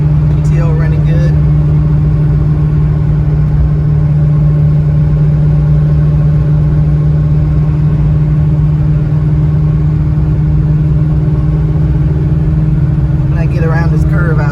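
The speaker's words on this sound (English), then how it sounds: "GTO running good." A Pontiac GTO engine drones steadily at cruising speed, a loud continuous low hum with a constant pitch throughout, running smoothly without popping.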